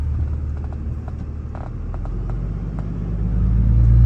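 A 3rd-generation Cummins diesel truck with a cooling failure drives in second gear. Its engine gives a steady, loud low rumble with faint ticking, and the drone swells and deepens near the end.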